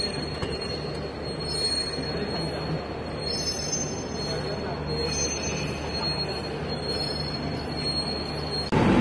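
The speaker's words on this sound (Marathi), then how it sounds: "ट्रेन पण लागली." A passenger train at a Mumbai station platform, the Vivek Express bound for Jammu, gives a continuous high metallic wheel squeal over a dense rumbling rail and crowd din, with voices murmuring throughout and a louder burst at the very end.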